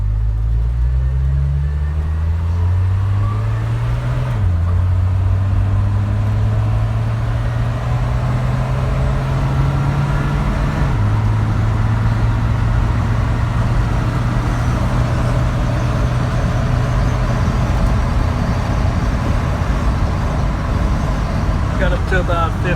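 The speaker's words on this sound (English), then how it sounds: "Shifts good. It's smooth, quiet. Well, quiet for a pickup truck." 1978 Dodge D100 pickup truck accelerating on the road, engine pitch rising then dropping at each of two gear shifts, followed by a steady cruising drone with road rumble, loud and close throughout.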